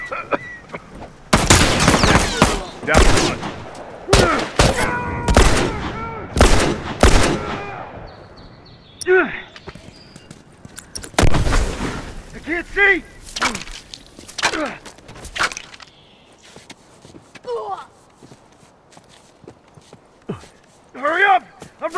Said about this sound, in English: Yeah, he's got a rifle.